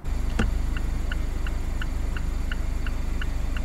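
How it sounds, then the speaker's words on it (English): A steady turn signal in a 2019 Mazda MX-5 Miata clicks at its low volume setting, even ticks about every third of a second over a low engine hum, with one sharper click near the start. "Here's the turn signals on low."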